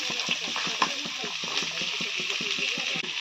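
Carrots, garlic, capsicum and cabbage frying for egg fried rice, a steady loud sizzle with repeated stirring scrapes in a quick rhythm, close and continuous.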